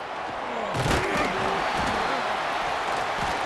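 A stadium crowd at a Boise State versus UNLV college football championship game roars as a punt return unfolds, a dense, sustained wall of cheering with a sharp surge near the start, heard alone without close talk.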